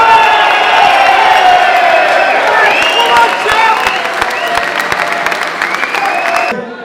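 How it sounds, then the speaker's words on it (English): A big live audience at a show for boxer Tyson Fury breaks into loud applause and cheering, dense clapping under a steady roar of voices that eases slightly before cutting off. "Put your hands together for Tyson Fury!"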